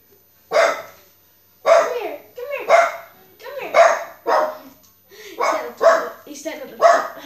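A dog barks repeatedly, about eight sharp barks in irregular bursts, loud and close, with brief pauses between them.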